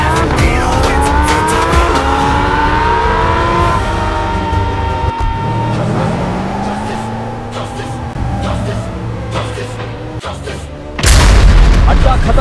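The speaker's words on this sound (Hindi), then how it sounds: "गाड़ियां तैयार हैं।" Animated cars rev and roar through a chase, engines whining and shifting pitch with screeching tires and heavy booms, loud and dense throughout, ending in a big crash-like burst.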